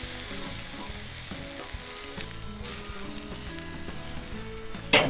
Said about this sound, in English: I'm gonna hold it on this edge right here and sear that fat cap edge and the inside edge as well